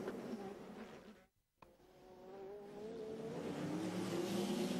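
An Intersport Lola Judd passes on track during a race, its engine droning at a distance, cutting out briefly, then swelling into a rising buzzing whine as the car approaches.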